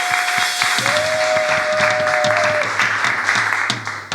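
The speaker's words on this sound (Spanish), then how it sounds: "Dámosle un aplauso al Señor" A church congregation applauds during a sermon, steady clapping at moderate loudness with a sustained musical tone sounding beneath it and short vocal bits over the top.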